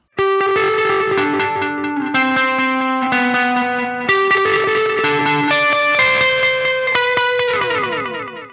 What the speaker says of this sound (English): we are playing a standard delay